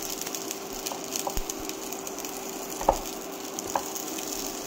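Stuck-together pelmeni frying in a pan, a steady close sizzle broken by a few sharp knocks and scrapes of a utensil against the pan, with no talking.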